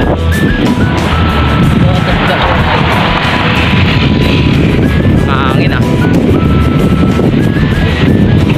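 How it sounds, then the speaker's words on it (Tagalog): Strong wind buffeting the microphone in BGC, a loud continuous roar with gusty low rumble, as people chat over it the whole time. "Mga hangin dito sa BGC. Sobrang hangin."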